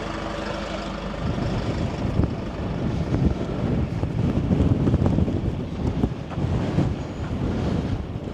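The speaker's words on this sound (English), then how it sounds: "It's very windy and cold," Gusty wind on top of Mount Wellington, Tasmania, roars and thumps against the microphone, building after a calmer first second into a sustained, blustery rumble.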